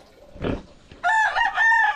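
Chickens on a small farm: a short cluck or rustle, then a rooster crowing loudly and close in a long, wavering call.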